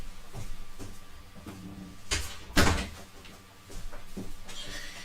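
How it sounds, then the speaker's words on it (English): A door being shut in a home, a short broadband thud with rattle standing out midway, preceded and followed by softer handling knocks against a steady room background. "Just need to close the door"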